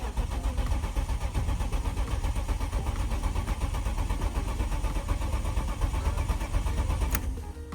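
A BMW E36 engine cranks and catches, then runs as a steady, loud, close mechanical drone throughout, with light rain and no voices.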